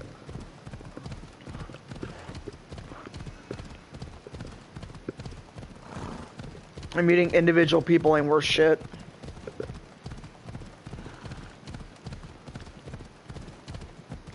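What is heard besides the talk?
horse hooves, from a video game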